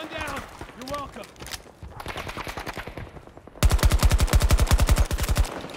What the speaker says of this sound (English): That burst fire.